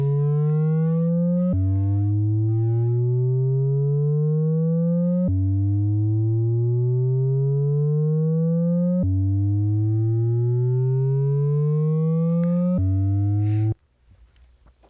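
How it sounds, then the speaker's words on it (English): A pure sine tone from the Airwindows Crystal plugin sweeps upward in repeated rising glides, each pushing into saturation with a faint flanging shimmer, loud and steady before cutting off abruptly. "if you heard a little sort of flangy thing like as it came in, that's because as the sine hits that saturation point"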